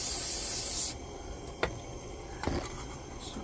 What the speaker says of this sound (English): I'm going to spray some carburetor cleaner on there